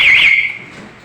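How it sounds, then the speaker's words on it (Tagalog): A fire alarm system sounds during a sound test, a loud close electronic tone that holds briefly, then cuts off and fades to a quiet room. "Okay, sound test."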